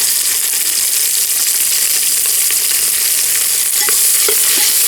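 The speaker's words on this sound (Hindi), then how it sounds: "शिमला मिर्च को भी हम अच्छे से भून लेंगे।" Cauliflower and freshly added bell pepper stir-fry in a hot pan for a veg tahari, giving a loud, steady hiss of frying with a few soft scrapes of stirring near the end, no voices.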